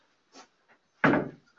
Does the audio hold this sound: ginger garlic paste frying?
no